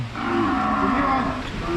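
A red heifer moos in a long, steady low call at a cattle sale, loud and close with no talk over it.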